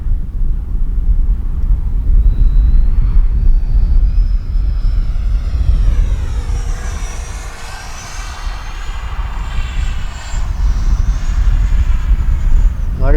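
A Freewing F-16 RC jet with a 70mm ducted fan, in arctic camo on its maiden flight, makes a steady loud roar with a whine that sweeps in pitch as it passes along the runway, with wind buffeting the microphone.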